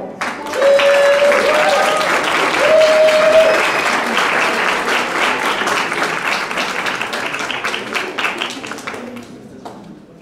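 Strong applause from an audience welcoming a speaker at a university communication colloquium, loud sustained clapping with a couple of whistles early on, tapering off toward the end.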